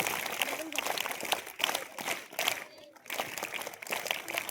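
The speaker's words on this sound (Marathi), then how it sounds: "जोरदार टाळ्या।" Students and guests at a school function applaud heartily, a busy, uneven clatter of many hands that dips briefly around the middle before picking up again, with some background voices.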